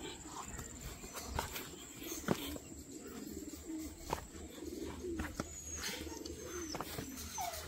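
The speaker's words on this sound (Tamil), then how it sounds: "புறாக்கள் எல்லாம் அங்கங்கே பறந்து உலாவிட்டு இருக்காங்க." Pigeons coo softly around a farm with Al-Shaji Farms named as the place, under a quiet outdoor hum, along with scattered thumps and wing flutters and an occasional faint distant call.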